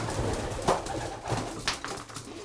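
Racing pigeons coo in a loft, a soft, continuous murmur of overlapping throaty calls with a few louder coos rising above the flock at close range.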